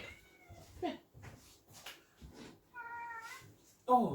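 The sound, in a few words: cat meowing loudly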